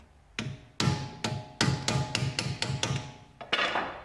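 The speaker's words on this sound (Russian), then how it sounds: "Сначала расконтрим стопор, который вот здесь вот забит в стопорное, получается, в прорезь." Ten or so sharp metallic hammer blows knock back the staked lock ring on the front hub nut of a BMW 3 Series E46 during a wheel bearing replacement. The strikes are close, loud and evenly paced, with no talking.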